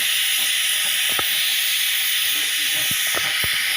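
A pressure cooker with meat inside hisses steam in a loud, continuous, high-pitched jet, with faint low knocks and clatter underneath.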